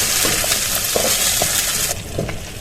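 Onions frying in a pan: a loud, continuous close sizzle with faint scraping stirs and light clinks mixed in, softening slightly toward the end.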